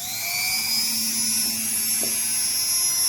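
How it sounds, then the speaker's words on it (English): A small drill bores into an etched printed circuit board, giving a loud, high-pitched steady whine that holds throughout with a slight dip partway through. "it's time for drilling it."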